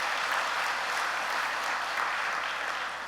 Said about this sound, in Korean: 우리 그 훌쩍거리던 아이를 위해 박수 한번 보내주십시오.